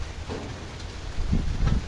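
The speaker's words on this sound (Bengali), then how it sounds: "বৃষ্টি পড়তেছে, না হলে বাইরে যে ভিডিও করতাম।" Steady rain hisses softly throughout with a couple of low rumbling thuds, no voices.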